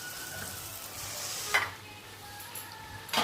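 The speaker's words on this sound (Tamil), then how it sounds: "இப்போ எண்ணெய் நல்லா காஞ்சிடுச்சு. இப்போ அதில் நம்ம போண்டா போடலாம்." Sweet bonda batter fries in hot oil with a busy, crackling sizzle, close and continuous, broken by a couple of sharp utensil clinks against the pan.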